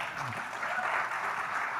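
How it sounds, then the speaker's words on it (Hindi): Audience applause in a Hindi talk hall fills the whole stretch as a steady, dense wash of many hands clapping, fairly loud and continuous, with a faint voice briefly underneath. "बहुत बहुत शुक्रिया आपकी तालियों का"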